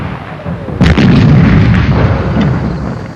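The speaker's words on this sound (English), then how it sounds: "the Hong Kong veteran especially remembers British shells incoming" British artillery shells exploding during the 1941 battle for Hong Kong: one sudden, heavy blast lands after a moment of low rumble, followed by a loud, rolling roar of debris and echo that slowly fades.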